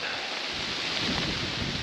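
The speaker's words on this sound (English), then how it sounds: "just as the rain is starting to come down a little heavier" Rain falls as a steady, dense hiss during a river camping trip, with wind adding a soft low rumble, continuous and fairly loud over the whole short stretch.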